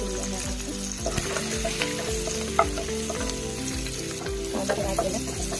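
Green chillies, mustard seeds and cumin frying in hot oil in a pan for upma, a close, busy sizzle with repeated stirring scrapes in a steady rhythm.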